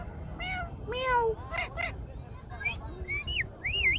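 A pet parrot imitates a cat's meow, giving several separate whistly, rising-and-falling meow calls at moderate distance over a faint background hiss.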